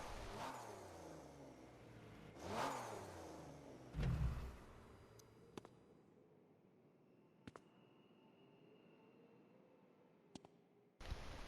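Sports car engine in The Crew 2 racing game revving hard in two loud surging sweeps, then a short burst, before settling to a quieter idle hum with a few sharp clicks.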